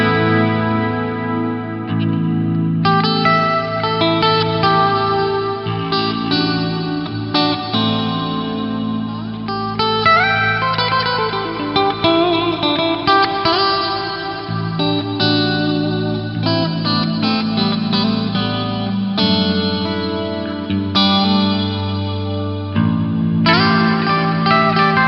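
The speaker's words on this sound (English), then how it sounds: "So check this out for a glorious ambient reverb." Guitar played through an Axe-Fx III with a lush ambient reverb patch, sustained chords swelling and washing into each other in a steady, dense wall of sound with no talking.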